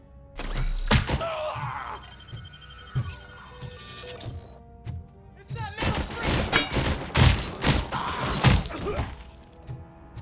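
Heavy gunfire from a weapon in RoboCop: Rogue City, a string of loud close shots and impacts in irregular bursts following a quieter stretch of game sound.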